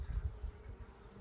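Honey bees buzz at the entrance of a hive, a close, low droning hum that pulses in uneven swells as individual bees fly past.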